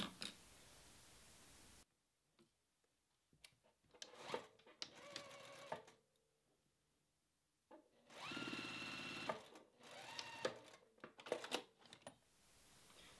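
A sewing machine stitches binding onto a mini quilt in short bursts, its motor whirring and needle chattering up close, with pauses between runs.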